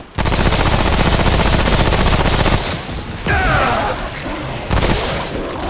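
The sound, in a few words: traps exploding in distance, video game Remnant: From the Ashes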